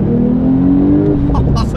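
A rear-wheel-drive, manual Porsche 911 Sport Classic engine pulls loudly under acceleration with a smooth, sustained tone that rises, then eases off as a person begins talking at the end.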